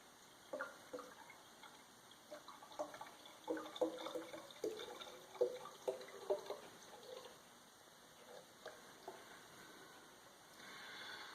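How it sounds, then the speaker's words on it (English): Reverse-osmosis filtered water splashes and trickles irregularly into a jug, soft and close, with gurgling bursts that rise in the middle and then taper off. "I'm just going to tap it off with our osmosis filtered water"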